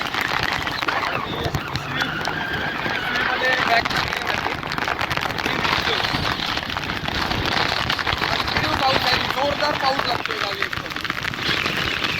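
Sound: heavy continuous rain

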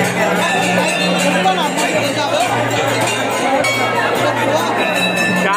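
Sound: large crowd at Tarkulhi Devi temple fair

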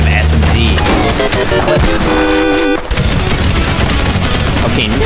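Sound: SMG and pistol gunfire in a video game (Fortnite)

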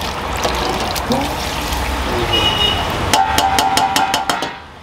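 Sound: curd (yogurt) being added to kidney-liver curry while cooking

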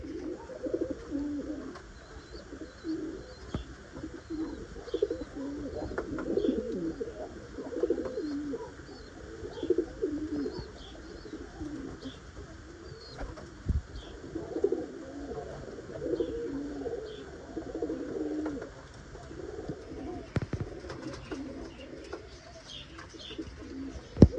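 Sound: pigeons cooing

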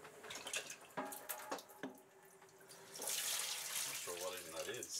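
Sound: excess salt water spilling out from a boat's water maker

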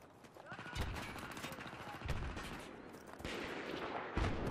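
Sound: grenade launcher fire in video game Battlefield 3

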